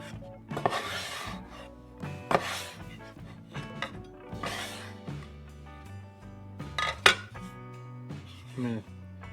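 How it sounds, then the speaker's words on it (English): A bench scraper rasps across sourdough dough on a board in several separate close strokes, each a short scraping rub with pauses between, over a steady low tonal background. "Now what I'm going to do is use the bench scraper and just scrape it to close up that bottom"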